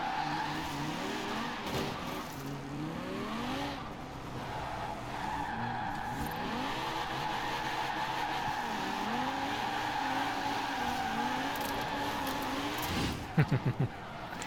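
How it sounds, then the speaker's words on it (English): A Mazda RX-7 Spirit R engine revs and tires squeal repeatedly through drifting turns in Forza Horizon 4, with a sharp burst of clattering near the end. "You like how this thing drifts, dude?"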